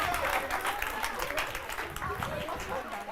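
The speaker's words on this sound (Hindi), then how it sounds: "तो तालियां बजाइए।" An audience at a live event applauds in a thick, continuous roll of clapping, fairly loud, while a voice talks over it.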